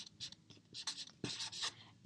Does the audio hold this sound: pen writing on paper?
yes